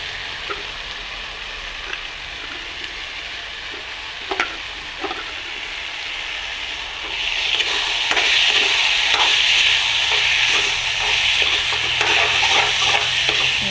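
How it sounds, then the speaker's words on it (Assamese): Mashed boiled potatoes frying in a pan with an ongoing soft sizzle, occasional spatula scrapes and stirring knocks, the sizzle growing louder and denser about halfway through, with no voices. "আলুকেইটা দি দিম"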